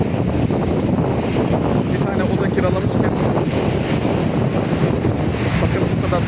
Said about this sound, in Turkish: Bu kadar dalgalı görmüş müydünüz?